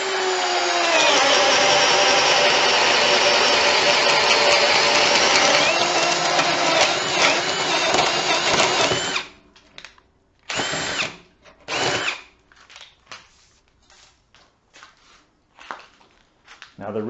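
Ryobi HP One Plus cordless drill running at speed 1 while boring into wood, a loud continuous whine for about nine seconds, then a series of short stop-start bursts.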